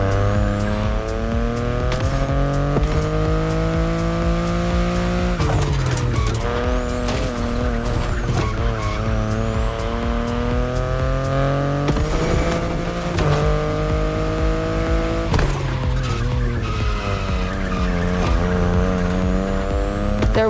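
A BMW i8 sports car drives with a loud, steady engine tone that rises and falls through gear changes, with brief tire squeal, heard close and alone.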